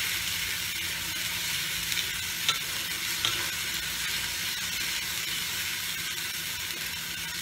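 Potato and katla fish dolma stirred and sautéed in a pan with a splash of water, a continuous loud hissing sizzle with a couple of soft spatula knocks, no voices.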